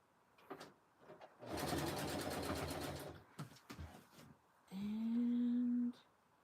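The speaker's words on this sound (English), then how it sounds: "We're sewing a fabric strip rug here today." A sewing machine stitches a fabric strip jelly roll rug in two close runs: a long, loud buzzing rattle, then a shorter steady whirring hum, with small handling noises between them.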